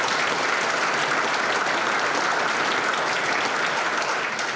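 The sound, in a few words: audience applause at a hall of fame ceremony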